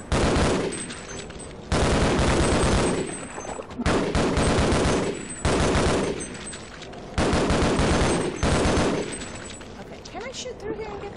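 Gunfire in the Half-Life video game: repeated dense bursts of rapid shots in roughly regular bands, loud and close, with brief pauses between bursts and a softer tail at the end.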